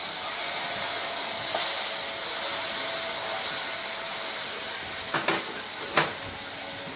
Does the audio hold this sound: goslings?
no